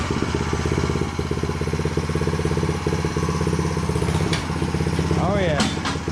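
A small garden tiller engine runs steadily at close range with a loud, pulsing mechanical drone, and its pitch shifts near the end as the machine is put in gear, while a person talks over it.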